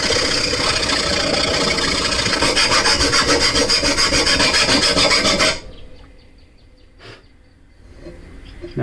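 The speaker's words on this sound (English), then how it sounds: "I do have this little hand file and a couple of them" A small hand file rasps back and forth along a lawn mower blade in quick, even strokes, loud and close for about five seconds, then stops, leaving a quiet room with a single faint knock.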